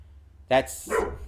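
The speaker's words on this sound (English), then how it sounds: "Dog is going to start barking for a second." A dog gives two quick barks, the first sharp and loud, the second a bit softer and drawn out, over a low steady background hum, from a TV sitcom episode of The Ghost & Molly McGee.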